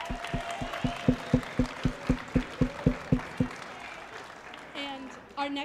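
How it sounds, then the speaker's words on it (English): At a middle school performance event, a slow, evenly spaced run of about a dozen loud single claps rings out close by over a low crowd murmur, then fades into room noise before brief voices follow. "Let's get one more round of applause for the Kennedy Middle School."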